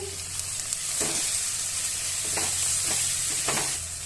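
Ginger garlic paste sizzling in a frying pan for crab pepper masala, a steady hiss of frying with several soft scrapes as it is stirred, close by and with no talking.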